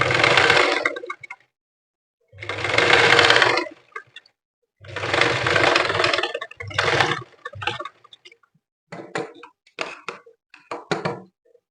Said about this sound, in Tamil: இப்போ நம்ம தையல் போட்டுக்கலாம்.